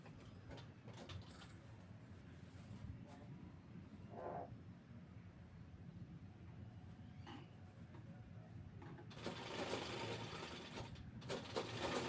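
A sewing machine stitches the lining onto the flared skirt of a long dress made from a reused Paithani silk saree, running as a steady low whir through most of the stretch and growing louder near the end.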